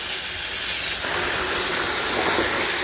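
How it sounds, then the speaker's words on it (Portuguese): Strong water jet spraying across a home yard floor during washing, a steady loud broadband hiss that grows fuller after the first second and holds continuously to the end. "A água daqui tem bastante pressão."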